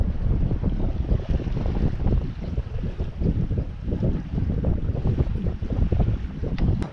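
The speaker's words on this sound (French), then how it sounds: "Dans le chenal, sous voile, sans moteur." Sailboat under sail in a channel in the Gulf of Patras, with wind buffeting the microphone and water rushing along the hull, a steady low roar with no motor and no voices.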